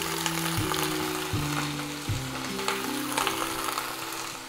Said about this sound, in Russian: Сухое обжаривание.